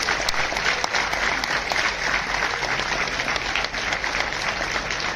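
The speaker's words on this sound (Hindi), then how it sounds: "ताली किस बात के लिए?" A large audience at a university convocation ceremony at NIT Rourkela claps steadily, a dense, loud, continuous wash of applause filling the hall throughout.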